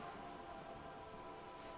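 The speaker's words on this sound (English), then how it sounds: "All around you, rain keeps falling down. On the wooden boards she's standing on, and on the water around you." Steady rain in Disco Elysium patters on wooden boards and water, a dense, even hiss with no voices over it.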